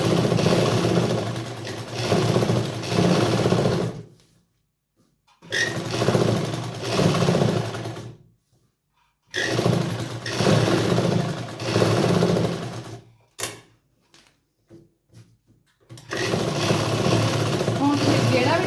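A sewing machine runs stitching salwar fabric along buckram, in several sustained bursts of steady motor whirr separated by short pauses, close and fairly loud.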